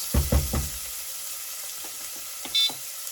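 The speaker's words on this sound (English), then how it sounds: "So make sure you stir your bacon and your onions so the onions don't burn and your bacon doesn't burn." Bacon and onions fry in a pan, a soft steady sizzle broken by several close knocks and scrapes of stirring and a brief beep near the end.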